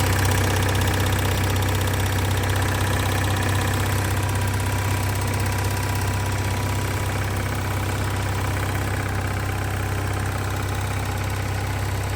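A vintage motorhome's large engine idles steadily at close range for the whole stretch, a constant low droning rumble with a slight knocking texture and no talk.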